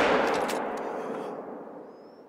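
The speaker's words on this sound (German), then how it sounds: "ich weiß nicht, ob der Schuss gut war" A single loud rifle gunshot cracks sharply in theHunter: Call of the Wild while hunting bison, then its long echoing tail fades away over about two seconds into quiet.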